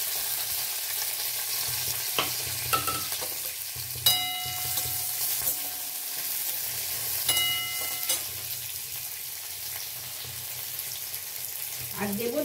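Whole spices for tempering, cracked small cardamom, cloves, cinnamon pieces and a little cumin, sizzle in hot oil in a kitchen. A steady crackling fry runs throughout, broken by a few metallic clinks and stirring clatters.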